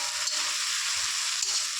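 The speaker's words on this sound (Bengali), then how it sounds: "তো বাদাম দিয়ে একটু নাড়াচাড়া করে খাইতে নামিয়ে দেবো।" Leafy greens frying with peanuts as they are stirred in a pan, a continuous dense hiss and sizzle up close with faint scraping, and no one talking.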